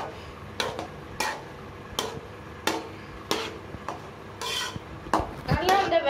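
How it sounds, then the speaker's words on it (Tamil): Egg fried rice being stirred in a pan, with a spoon scraping and clinking against the metal in irregular close strokes and a few sharper knocks toward the end, and no talking. "ரைஸை கிளறி இருக்காங்க"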